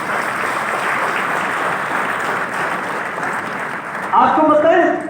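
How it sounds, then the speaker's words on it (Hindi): Audience applause at a live Hindi-language talk, a dense steady clapping that fills the room and swells as a loud shout rises near the end. "जोरदार तालियां बनती है आप सबके लिए।"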